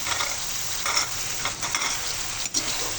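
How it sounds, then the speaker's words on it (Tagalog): Shrimp sizzles loudly as it is stirred with margarine and garlic in a pan, a close, continuous frying hiss broken by soft utensil scrapes, with no talk. "At so, halo na natin yung hipon."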